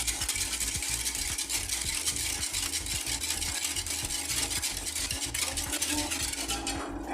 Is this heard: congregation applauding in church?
no